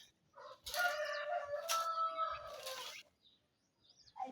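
A rooster crows loudly and close in a chicken coop, one long drawn-out call followed by a second shorter crow, with faint rustling afterward.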